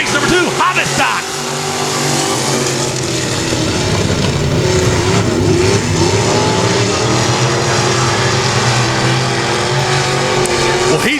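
Hobby stock race cars at Texarkana 67 Speedway roar steadily around the track as a close, continuous engine drone with shifting revs, with a commentator talking over it throughout.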